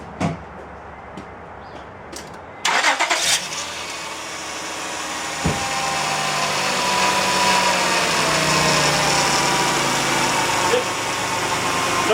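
A 2004 Honda Pilot engine cranks and starts after an engine swap, then settles into a steady, rising idle, preceded by a few clicks and knocks.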